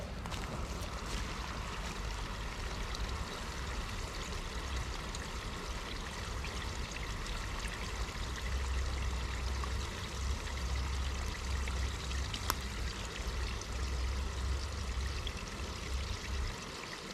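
Water poured from a container onto the soil around a newly planted self-sown Casuarina cunninghamiana tree, a continuous close splashing and gurgling stream lasting many seconds and growing slightly heavier toward the end.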